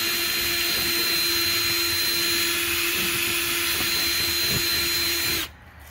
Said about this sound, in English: Okay, where's my drill?